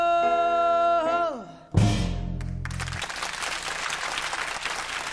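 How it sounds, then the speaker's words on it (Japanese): A held sung note from a piano-backed jazz vocal at a 1998 live concert slides down and fades, then a large audience bursts into sustained applause that continues to the end. "わあ、止まらないばかりの拍手。"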